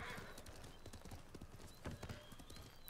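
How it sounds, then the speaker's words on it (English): Hooves clip-clop in an uneven, rapid rhythm as a horse in Ghost of Tsushima moves about, with a whinny breaking through; close and fairly quiet. "It would help if I can get on my horse"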